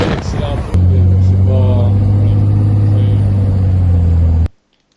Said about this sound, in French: Vous pouvez voir le grand pick-up tout électrique accéléré sans effort sur la route quand Andrew Villabanca, qui a filmé